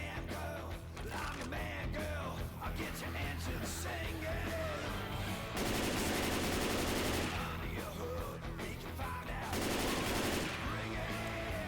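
Rapid automatic gunfire in Left 4 Dead 2 during a solo speedrun campaign, loud sustained bursts of machine-gun fire with heavier volleys at intervals, over game ambience.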